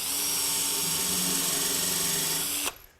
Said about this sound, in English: Make sure you pre-drill.